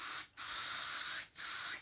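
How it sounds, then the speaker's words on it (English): Two short bursts of matte spray sealant hiss from an aerosol can onto an N scale model tree, each steady blast separated by a brief pause, close and fairly loud. "just give it a quick spray"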